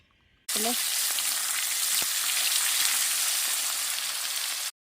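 Cleaned chilapi (tilapia) fish, netted from the water, frying crisp in hot oil, a loud steady full-band sizzle that starts abruptly and holds evenly for about four seconds, with a short murmur before it.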